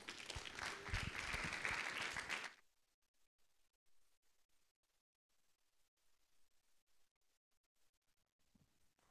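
Applause from a tech conference audience for a speaker, a loud burst of clapping lasting about two and a half seconds that cuts off abruptly, followed by near silence with faint room noise.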